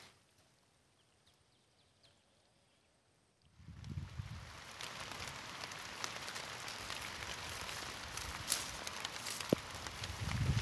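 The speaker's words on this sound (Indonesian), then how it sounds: "Hujan teman-teman" Rain starts after a few quiet seconds and then falls steadily during an outdoor fishing trip, a dense hiss of drops on surfaces that grows a little louder toward the end, no talking.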